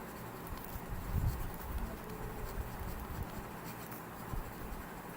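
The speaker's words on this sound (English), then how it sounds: "I'll just write down." Marker strokes on a board in a quiet room, a faint, steady scratchy rustle of writing with light taps, no voices.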